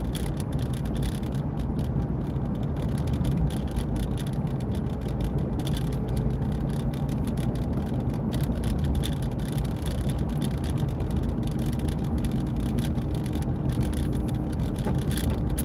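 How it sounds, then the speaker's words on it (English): Steady road rumble and engine drone inside a truck cab, broadband and continuous at a constant level throughout, with no talking. "I'm driving in my truck"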